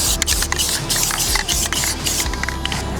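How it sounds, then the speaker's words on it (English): Aerosol paint sprayed in short vertical strokes over a CAR-15 rifle, its magazine and optic, a loud steady hiss pulsing with each pass, close up and with no talking. "Let's start doing vertical strokes too here."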